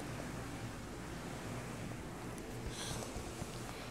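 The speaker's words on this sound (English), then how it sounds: "I got like every fan blowing in the room" Several electric fans blow in a room, giving a broad, steady rushing hum that holds at an even level throughout with no talk.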